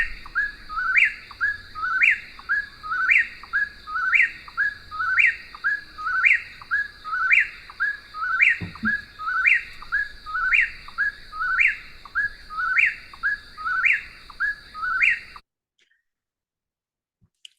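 An eastern whip-poor-will repeats its rhythmic three-part whistled call, steady and clear, about a dozen times in a row, then stops abruptly.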